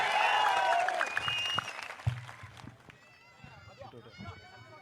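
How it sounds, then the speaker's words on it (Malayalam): An audience at a political meeting in Vadakara claps loudly to welcome a speaker back on stage. The applause fades after a few seconds and a voice takes over through the sound system. "വടകരയുടെ കരുത്തുള്ള ഒരു കയ്യടിയോടെ പിഷാരടിയെ നമുക്ക് ഒരിക്കൽ കൂടി വേദിയിലേക്ക് സ്വാഗതം ചെയ്യാം"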